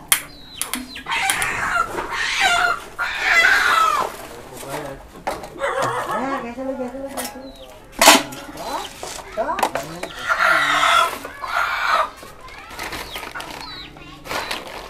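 Chickens cluck and a rooster crows nearby, bursts of fowl calls rising and falling across the scene while people talk and laugh over them.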